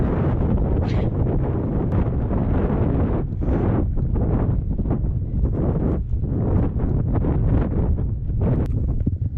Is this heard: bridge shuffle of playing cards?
no